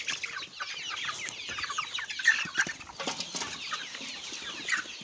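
Broiler chickens in a coop cluck and chatter continuously, a dense flock of overlapping calls close by with a few sharper squawks standing out and no talking.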